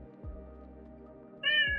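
A cat lets out a single short, bright meow near the end, over a low steady hum, with no one speaking.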